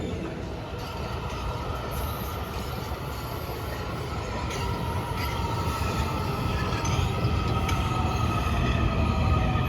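A mainline freight train rumbles past a DC Metro station at Brooklyn, a steady, loud roll of wheels with faint squeals and rail clatter running unbroken throughout.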